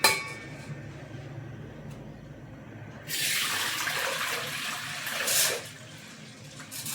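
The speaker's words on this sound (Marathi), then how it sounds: "आता मी ह्या बाजरीतलं पाणी काढून घेत आहे." Water pours and splashes for a couple of seconds as it drains off soaked pearl millet, starting abruptly after a quiet stretch and then fading.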